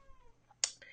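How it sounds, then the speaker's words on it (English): A house cat meows near a closed door wanting out, one short bright meow followed by a softer second call in a quiet room. "That's my cat."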